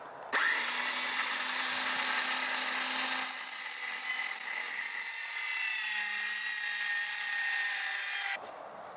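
A loud, steady whine of a power tool running continuously for several seconds, its pitch shifting partway through, then stopping abruptly.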